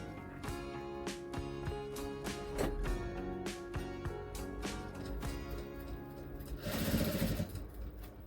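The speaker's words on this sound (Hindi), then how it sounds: "इसको इस तरह फोल्ड करते हुए इस तरह से स्टिचिंग लगा देंगे" A sewing machine stitches boxer shorts fabric, its needle hammering in a steady rapid rhythm with short pauses between runs, close and clear, ending in a louder burst of fast stitching.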